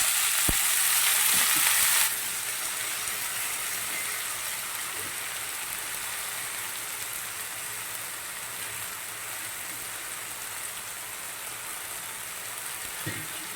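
Washed amaranth greens hit a hot frying pan on a low gas flame, a sharp burst of sizzling that drops after two seconds to a steady, softer hiss and crackle with occasional stirring taps.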